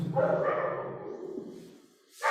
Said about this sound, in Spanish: Locura aquí los perros.